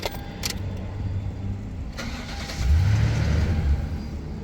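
A camper's engine cranks briefly after a jangle of keys, then catches and rises to a loud, rumbling start near the end, close by.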